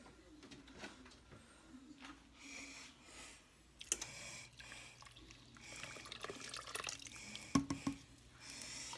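Milk poured into a pot of corn chowder on the stove, a soft, faint liquid trickle and dripping with a few light clinks of a container against the pot.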